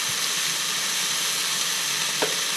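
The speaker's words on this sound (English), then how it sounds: "One of the very important steps to get your omelette done right is to get your butter foaming" Soft, even sizzling from butter foaming in a hot non-stick frying pan, a constant gentle hiss with a faint clink near the end.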